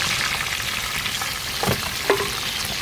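Food sautés in a hot pan over a village cooking fire, giving a loud, steady sizzle with a couple of brief scraping stirs, close up and without talk.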